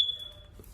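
A single bright electronic beep, a short pure tone that fades quickly, sounds alone in a quiet room during a fire-station storytime.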